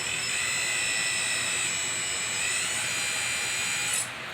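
A small electric motor in a model MAN TGS truck crane whines and strains steadily while lifting a drill. The sound is close and continuous, then drops off abruptly near the end.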